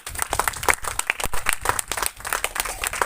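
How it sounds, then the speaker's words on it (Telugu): A congregation at a Christmas celebration claps loudly in a dense, uneven burst, individual sharp hand strikes poking through the crowd noise for a few seconds. "గట్టిగా చప్పట్లు"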